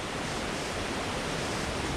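A small creek on Vancouver Island tumbles down a series of small drops, giving a dense, steady rushing wash of water, close and constant with no voices.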